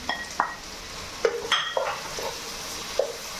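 Ginger garlic paste and green chillies sautéing in a pan, a soft sizzle broken by several sharp metallic scrapes and taps of a spoon against the pan, close and intermittent, with no talking.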